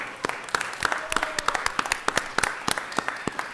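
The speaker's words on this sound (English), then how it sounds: "Round of applause for these gentlemen." Scattered applause in a Los Angeles city council chamber, a thin group of clapping hands with uneven, sparse claps that continue steadily at moderate distance without much cheering.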